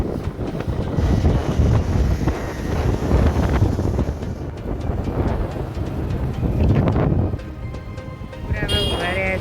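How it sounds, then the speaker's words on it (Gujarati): Heavy wind buffets the microphone during a motorbike ride, a loud, continuous roar that surges and eases throughout. "મેડમ બી રેડી થઈ ગયા છે ઓન ધ વે બાઈક લઈને"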